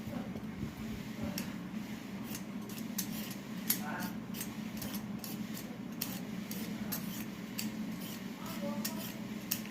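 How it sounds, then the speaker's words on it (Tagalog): A knife slices peeled boiled eggs into pieces the size of the meat for adobo, giving a run of light, crisp taps and clicks on a board at an uneven pace over a steady low kitchen hum. "ihiwain natin ng kasing sukat din nung hiwa ng karne"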